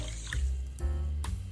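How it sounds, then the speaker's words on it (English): Japanese short grain rice being washed in water, with wet sloshing and running-water sounds close by, swelling in two or three short surges. "Wash the rice until the water runs clear."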